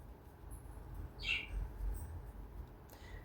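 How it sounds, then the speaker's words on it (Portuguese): Pet parakeets chirp indoors while crochet is being taught, a few short, faint, high calls scattered over a quiet room hum with no talk. "Desculpem o barulho dos periquitos."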